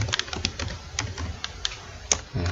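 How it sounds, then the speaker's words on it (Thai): Fingers tap out a quick burst of keystrokes on a computer keyboard, crisp clicks in an uneven rhythm heard close and alone, ending with a sharper key press. "เปลี่ยนเป็น พิมพ์ตัวลาวเนาะสารบาน"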